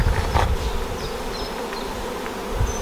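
Honeybees buzzing around a hive being transferred to a new box, a dense close swarm hum with individual bees droning past, continuous throughout.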